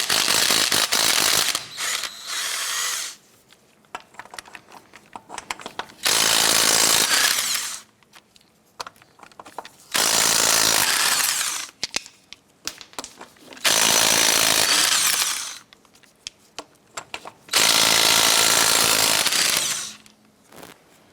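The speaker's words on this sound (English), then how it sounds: "loosen and remove the lug nuts." Power impact tool loosening and removing the 19mm wheel lug nuts on a 1994-2004 Chevy S10, five loud buzzing bursts of a few seconds each separated by short quieter gaps, close up with no talk.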